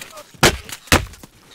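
Two sharp gunshots in a video game shooter, about half a second apart, loud and close, each trailing off quickly, with faint quieter pops after them.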